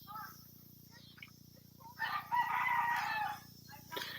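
Rooster crowing and chickens clucking on a farm at dusk, heard at a distance in short bursts over a quiet background hum, with a longer crow rising in the middle.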